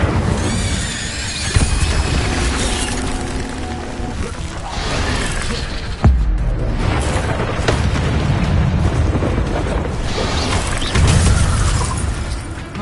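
An Incendio fire spell cast in the video game Hogwarts Legacy, heard as a loud, dense roar of flame with heavy booming bursts near 1.5, 6 and 11 seconds, sustained throughout without a break.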